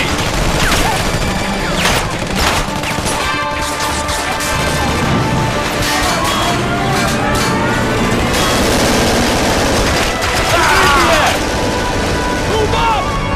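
Dense, continuous gunfire in Frontlines: Fuel of War, with rapid automatic bursts, crashes and explosions layered loud and close throughout, under shouted voices.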